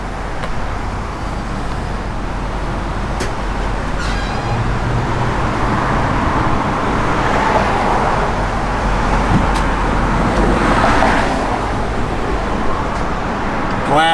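A 1964 Oldsmobile Dynamic 88 with factory automatic transmission rolls along the road, a steady low engine and tire drone with rushing road and wind noise throughout, fairly close and continuous.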